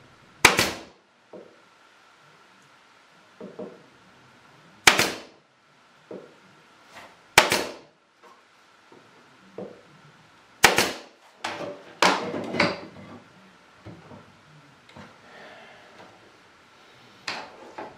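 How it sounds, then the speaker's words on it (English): Pin gun firing pins into small wood scraps glued up for a trivet, sharp isolated snaps in a spaced sequence of about a dozen shots, with faint handling knocks between them. "And then take my pin gun"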